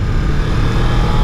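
A close Honda VFR750 motorcycle engine rumbles steadily at idle, a deep, continuous mechanical hum with no voices.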